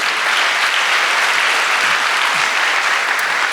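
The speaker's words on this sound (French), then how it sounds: "Là, on peut les applaudir." Steady, loud audience applause fills a fashion show hall at a college fashion school's 2025 runway and awards event, a dense even wash of clapping from a large crowd with no voices over it.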